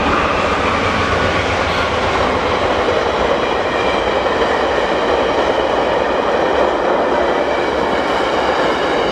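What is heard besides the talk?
passing train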